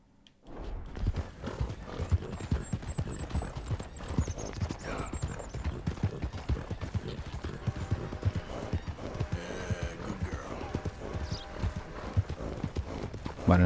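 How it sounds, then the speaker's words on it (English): Horse hooves clip-clop steadily in Red Dead Redemption 2, a continuous rhythmic trot heard up close throughout with other game sounds mixed in. "nuestro caballo se está cansando"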